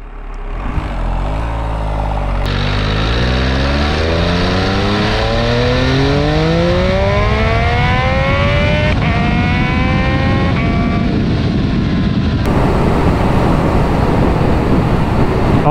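An MV Agusta 800 Brutale RR motorcycle engine revs hard up through the gears close by, each rising howl climbing in pitch and then cutting as the next gear begins, loud over steady rushing wind noise.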